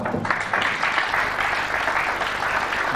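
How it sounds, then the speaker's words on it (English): A snooker audience applauds during a 1998 men's quarter-final match, a steady burst of clapping heard up close that lasts throughout. "Duly applauded."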